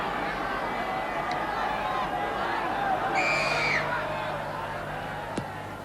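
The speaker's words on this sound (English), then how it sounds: "The crowd here trying to lift the Irish side" Crowd noise from a 1978 Ireland versus All Blacks rugby test, a steady broad roar from a stadium of spectators rising slightly in the middle, with a brief whistle-like tone and a commentator's voice over it.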